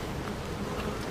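Honeybees buzz loudly and continuously around an opened hive during a June inspection, a dense close droning hum with no speech.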